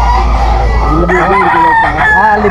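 Young roosters (stags) at a Malabon poultry market crow and cluck loudly and close by, with several overlapping wavering calls over market background noise.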